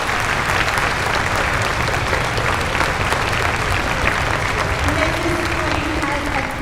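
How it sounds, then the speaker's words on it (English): Loud, sustained applause from a crowd at a middle school Veterans Day celebration, thick continuous clapping throughout, with a voice faintly audible underneath near the end. "Please give Mrs. Spillane a round of applause."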